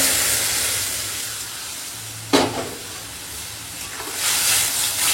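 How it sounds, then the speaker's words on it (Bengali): Dal mixed with ground turmeric is poured into hot oil tempering with fried raw mango, giving a steady hiss with a sharp burst of sizzling midway, close and fairly loud. "আর এখন এই ঘুটে রাখা হলুদ দিয়ে ডালটা দিয়ে দিলাম"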